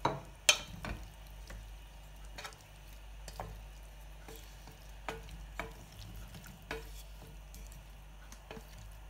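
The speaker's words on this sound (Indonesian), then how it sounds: "kita masukkan daging sama jamurnya. Kita aduk." Chicken and mushrooms being stirred in a frying pan, with a soft steady sizzle underneath and scattered sharp clicks and scrapes of the spoon against the pan, fairly faint and close, with no talking.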